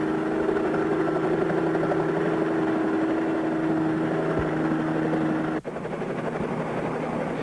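A helicopter drones steadily with a constant engine hum and rotor throb, ending in a brief sharp thump before the steady drone continues.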